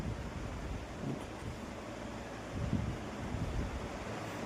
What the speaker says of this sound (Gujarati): એકદમ ઠંડો પવન છે